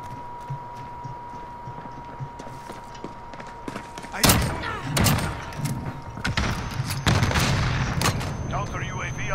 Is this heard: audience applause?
no